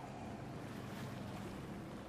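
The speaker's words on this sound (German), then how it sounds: "Der Wind ist sehr stark" Strong wind at sea near the Gili Islands, buffeting a motorboat with an 83 hp engine as it struggles against the gusts; a steady, loud roar of wind and waves fills the whole stretch without pause.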